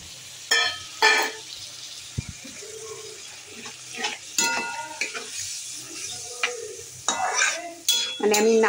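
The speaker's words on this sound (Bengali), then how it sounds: "নারকেলের দুধটা এবারে এর সাথে মিশিয়ে দিলাম।" Curry with coconut milk is stirred in a pan, a soft simmering sizzle under intermittent bursts of spoon scraping and clinks against the metal, close and fairly quiet.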